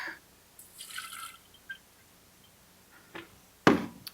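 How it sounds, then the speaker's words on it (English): Gasoline drains out of a filter bag into a jar during repair of a Troy-Bilt mower with a Honda engine, giving scattered soft drips and small splashes, then a sharper close splash near the end, with no talking. "let's go ahead and dump this bag out"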